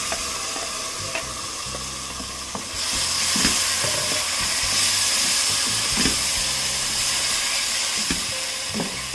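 Blended tomato goes into a hot pan of frying masala and is stirred, giving a steady close sizzle that swells louder after the addition, with scattered scraping clicks of a spoon and no talking.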